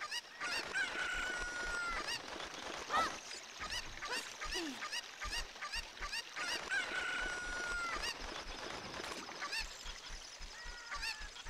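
Cuccos in Zelda: Ocarina of Time, several chickens clucking and squawking again and again over a busy background of rhythmic thumps, fairly loud and close.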